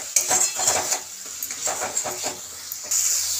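A utensil stirs masala for an elephant foot yam dish in a cooking pan, giving a close series of rhythmic metallic scrapes and clinks against the pan with a faint sizzle underneath.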